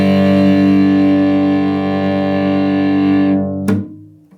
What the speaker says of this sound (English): the vibration also happens in a different fashion with the bow